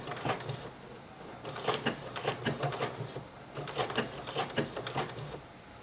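Embroidery sewing machine with a 20D presser foot working hand-embroidery-style stitches, heard as quiet, close bursts of rapid stitching separated by short pauses.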